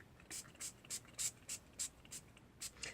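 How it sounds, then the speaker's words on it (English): A pump-action glimmer mist bottle of black cherry colour sprays a doily inside a mist box, giving about ten quick, soft hissing bursts at a fairly steady rhythm, close and fairly quiet. "I know that I want to spray a doily to be a pink color"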